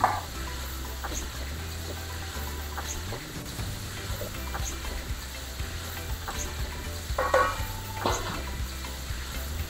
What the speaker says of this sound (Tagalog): Ilagay na ito sa niluto natin at haluin mabuti ng ilang minuto.